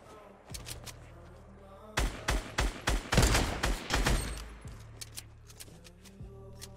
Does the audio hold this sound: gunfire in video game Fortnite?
yes